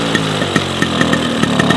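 A small vintage Motobécane moped engine just started and running, a raspy, buzzing two-stroke putter with quick irregular pops, close and loud, alone without voices.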